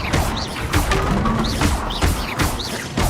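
The Bombarda spell in Hogwarts Legacy sets off repeated smashing, thudding explosions with sharp impacts recurring every half second or so, loud and close amid chaotic combat effects.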